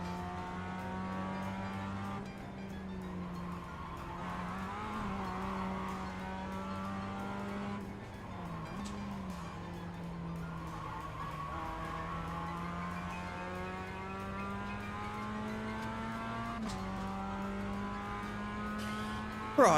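Mazda MX-5 race car in the iRacing simulator, its engine droning steadily at sustained revs with gear changes and shifting pitch throughout, a close continuous sound from start to end.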